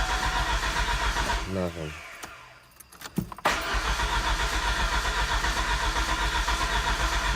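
A Ford Turbo Coupe engine swapped into a Ranger pickup cranks with a rapid rhythmic starter whir, falters and sputters for a moment, then catches and settles into a loud, steady running drone close by.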